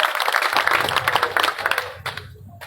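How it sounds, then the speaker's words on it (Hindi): Crowd applause at a BJP political rally, a loud continuous burst of many people clapping close by that thins out and fades toward the end, with a few voices in the background. "बहुत बहुत जोरदार तालियां इस बच्ची के लिए।"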